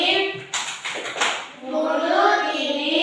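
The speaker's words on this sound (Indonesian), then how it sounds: "Mari kita beri aplaus kepada kelompok 2" A classroom group gives a short burst of rhythmic clapping for group 2, a few quick claps in a row, then children's voices chant and talk together.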